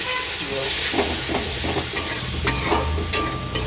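Tomatoes and spices frying in a pan, a steady hiss of sizzling oil broken by stirring clacks and scrapes, close up, with faint voices in the background.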